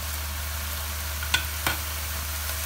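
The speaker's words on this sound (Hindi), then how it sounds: "2-3 मिनट इसको इसी अदरक लहसुन के साथ हम फ्राई करेंगे, अच्छी तरह भूनेंगे" Chicken fries in ghee with ginger garlic paste, giving a steady, even sizzle under a low hum, broken by a couple of sharp utensil clinks as it is stirred.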